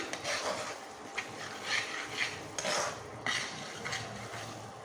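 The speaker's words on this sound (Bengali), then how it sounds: "সমস্ত মশলাকে ভালো করে একসাথে মিশিয়ে নেব" Spices mixed with mustard paste for mustard hilsa being stirred in a pan, a series of close scraping strokes of a spoon against the metal over a soft sizzle, with no talking.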